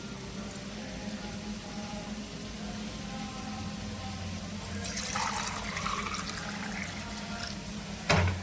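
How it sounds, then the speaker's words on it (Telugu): Glasses of water poured into a cooking pan while making upma, a steady faint splashing and trickling stream throughout, with a brief louder clatter near the end. "4 గ్లాసుల నీళ్ళు యాడ్ చేస్తున్నాను"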